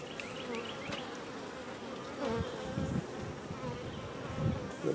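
Honey bees buzz steadily inside a small nuc hive in a nursery yard, a dense, close drone that fills the whole stretch with slight swells.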